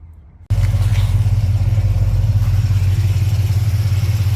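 After a brief quiet moment, a 2013 Gen 5 Camaro engine fitted in a 1968 Camaro fires abruptly and settles into a loud, close, steady idle with an even, throbbing low pulse.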